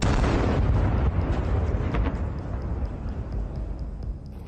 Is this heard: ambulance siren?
no